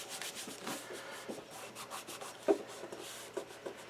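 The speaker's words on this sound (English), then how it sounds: "press this right out, give that a really good rub" A paper piece stuck down with tacky glue being rubbed firmly by hand, soft close scuffing strokes repeating in an uneven rhythm with one brief tap, quiet overall.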